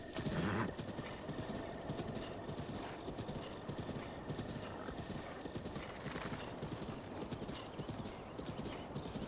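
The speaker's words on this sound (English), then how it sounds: "This is a horse." Horse hooves clip-clop steadily in The Legend of Zelda: Breath of the Wild, a continuous rhythmic trotting on open ground, with a brief whinny near the start and faint ambient game sounds.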